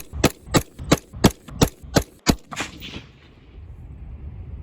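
A rifle fires a rapid, evenly spaced string of about eight sharp, loud .223 Winchester White Box shots, each crack followed by a short echo, then the reports fade into quiet outdoor ambience.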